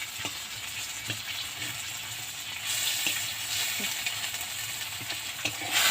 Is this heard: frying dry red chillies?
yes